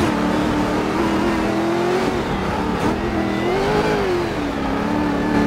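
Rally car in the video game DiRT 4 accelerating hard to the finish line on a stage in Mexico: a loud, continuous engine drone rising and dipping in pitch as it revs, close and alone with no talk.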